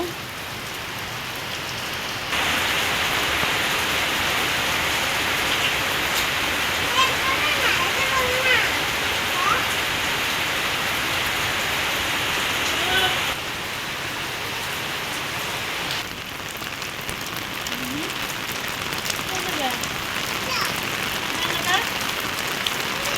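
Heavy rain pours steadily in a rural village, a dense loud hiss of drops on surfaces that swells and eases slightly, with people talking faintly beneath it.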